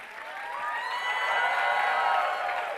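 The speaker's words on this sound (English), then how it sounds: "After you finish clapping." An audience at a religious scripture discourse applauds steadily, a dense wash of clapping with some cheering mixed in, lasting throughout.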